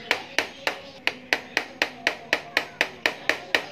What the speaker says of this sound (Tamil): ஒரு ஃபிளட் ஸ்க்ரூ டிரைவரை வச்சு சுத்தலால தட்டி ஆணியில் உள்ள த்ரெட் எல்லாத்தையும் கொஞ்சம் டீப்பாக்கி கொண்டேன்